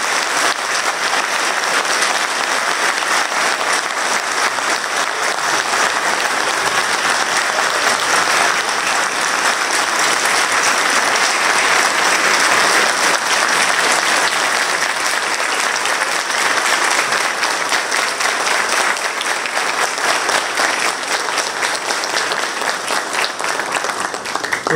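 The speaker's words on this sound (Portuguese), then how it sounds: "quero aqui então pedir uma salva de palmas de todos vocês" A large indoor audience gives a standing ovation at a city government presentation, dense continuous clapping filling the room at a steady, loud level throughout.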